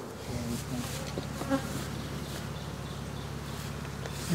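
A honey bee colony buzzing close by, a continuous dense hum of many bees with individual wingbeats flicking past, steady and moderately loud, with no voices.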